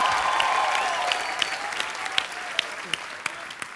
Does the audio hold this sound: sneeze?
no